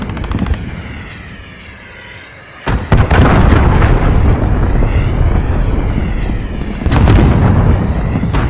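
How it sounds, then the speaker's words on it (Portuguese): Cruise missile explosions in Call of Duty Modern Warfare, two heavy booming blasts that each roll into a long roaring rumble, over a constant engine-like drone, no speech. "Míssil cruzador inimigo iminente."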